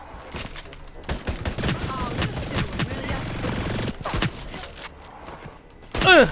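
Sustained machine-gun fire in the video game Hyper Scape rattles in rapid bursts, with mechanical clicks and a short break before more shots, under a voice.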